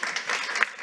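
Applause for youth delegates at a UN General Assembly session, a brief burst of steady clapping from the audience.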